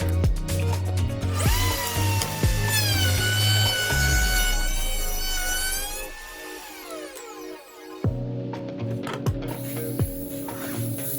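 A router shapes a solid surface cutting board made from scraps. Its loud, continuous high whine wavers in pitch as it cuts, dips briefly, then carries on steadily, with no talking.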